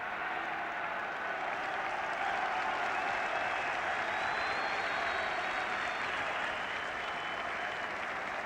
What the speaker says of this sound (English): cheer is not for the football, it's for a troublemaker, a solitary troublemaker in the crowd